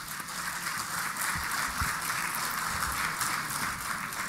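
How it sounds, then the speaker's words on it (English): An audience at a professional gathering of cost accountants gives a steady, sustained round of applause, a continuous even wash of clapping heard from a distance, with no talk over it. "Can I request all of you to please give them a big round of applause to begin with?"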